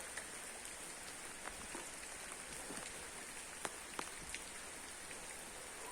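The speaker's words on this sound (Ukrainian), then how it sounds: "Неділя 21 липня на дачі дощ. Цілий день дощ вже, зранку почався." Steady rain falls at a country dacha garden on a July day, a dense even hiss with occasional close drops tapping a nearby surface, no voices.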